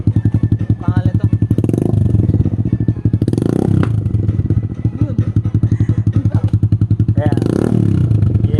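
Motorcycle fitted with a Yoshimura Alpha muffler with the silencer removed, revving loud and close in repeated bursts over a rapid, chattering idle, with voices talking underneath.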